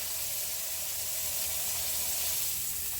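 Pork tenderloin sears in a hot pan, a steady close sizzle and hiss with no break.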